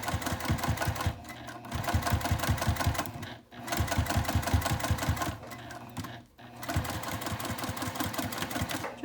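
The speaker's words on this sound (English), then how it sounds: "Just sewing an 1/8 inch from that edge there." A sewing machine top stitches a fabric sling an eighth of an inch from the edge, running in steady rapid bursts broken by a few short pauses, close and clear with no talking.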